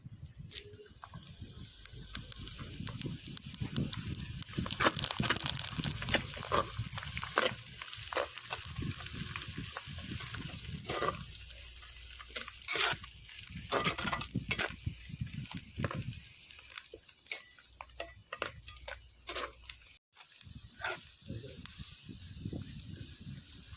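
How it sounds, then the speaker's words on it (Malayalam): Curry leaves and chopped green chillies sizzle in hot oil as the base for a fish curry, a loud continuous frying crackle with repeated stirring clatter close by, no speech. "കുറച്ച് കരിയാപ്പില അങ്ങോട്ടിട്ട് കൊടുക്കാം"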